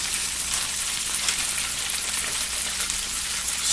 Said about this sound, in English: We're going to dump the rest of the Smiles in there.